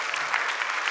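A short burst of steady clapping from a church congregation welcoming newcomers, moderately loud and even, with no talking.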